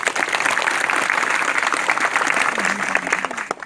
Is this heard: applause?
yes